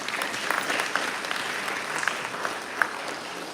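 An audience at a Bharatanatyam arangetram dance recital breaks into steady, dense applause with a few sharper individual claps standing out, sustained and moderately loud throughout, with no talking.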